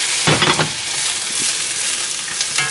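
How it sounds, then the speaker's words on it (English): BBQ shrimp sizzle loudly in a hot skillet, a steady bright crackling hiss with a few sharper pops and spatters near the start. "you can start to hear them sizzling already"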